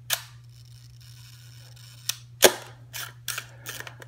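Hasselblad 500CM camera shutter set to one second, a sharp click opening and a second click closing about a second later, followed by a few quieter winding and mechanism clicks, close and faint.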